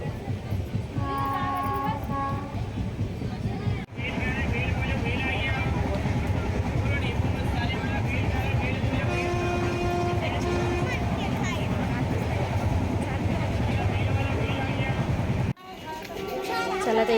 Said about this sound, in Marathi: आणि आता ट्रेनमध्ये आमचा प्रवास सुरू झाला.